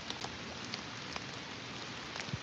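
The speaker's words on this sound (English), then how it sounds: "Mostly just super rainy, guys." Heavy rain pours down during a stormy fishing outing, a dense steady hiss of drops with a few sharper pattering hits, fairly faint and with no voices.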